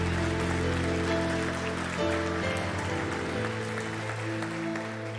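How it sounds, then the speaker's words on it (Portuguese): A Portuguese-speaking church congregation applauds over sustained keyboard or organ chords, a dense, fairly soft wash of clapping that carries on beneath the music. "Pode aplaudir a Jesus."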